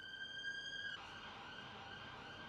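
A steady electronic siren tone, fairly faint, with harmonics that shift pitch midway through before continuing over a low background hiss.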